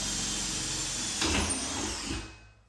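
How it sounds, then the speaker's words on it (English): A power drill boring a hole through sheet metal during an IKEA kitchen cabinet installation, a steady continuous whine running for over two seconds before winding down. "I want to drill a hole."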